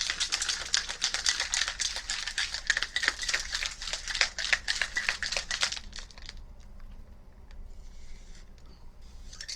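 A strawberry citrus drink, a 1917 Rose in June recipe, is shaken with ice cubes in a shaker: about six seconds of dense, rapid rattling and clattering close by, then it stops, leaving a quiet room.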